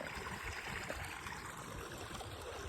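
Irrigation water runs steadily along a field channel on a Gujarat farm at dawn, a faint, continuous trickling and rushing without any speech.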